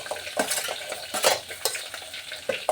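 A spoon scrapes and stirs vegetables (green chilli, carrot, tomato) for a basmati vegetable biryani in a pan, giving irregular clattering strokes over a light sizzle, close and alone without voices.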